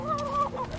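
Backyard chickens give a brief, close cluck-like call, a short tonal squawk that rises and falls.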